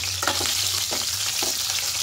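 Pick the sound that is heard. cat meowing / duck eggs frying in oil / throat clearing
duck eggs frying in oil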